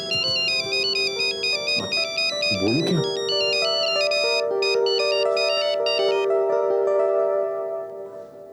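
A mobile phone plays a bright, repeating electronic ringtone melody close by, with someone speaking briefly over it before it cuts off.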